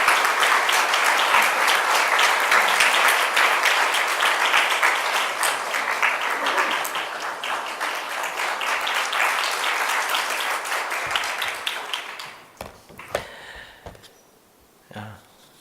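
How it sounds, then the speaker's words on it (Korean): A church congregation at a Friday evening worship service applauds warmly and steadily as a pastor comes forward, the loud clapping tapering off near the end into a few scattered claps and murmurs. "목사님 나오실 때 뜨거운 박수로 환영해 주십시오."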